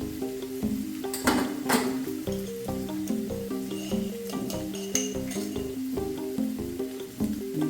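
Onions sautéing in a pan with red chilli powder, turmeric and coriander-cumin powder, a soft steady sizzle with repeated clinks and scrapes of a spoon stirring against the metal pan.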